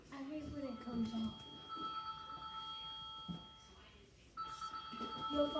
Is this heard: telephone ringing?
yes